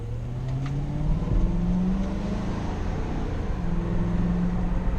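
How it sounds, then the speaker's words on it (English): A Ford Crown Victoria V8 engine revs from inside the car, a steady low rumble that swells briefly and settles again, heard close and moderately loud with no talking. "Hear that V8 engine"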